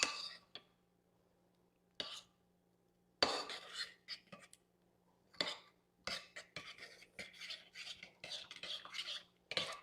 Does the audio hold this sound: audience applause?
no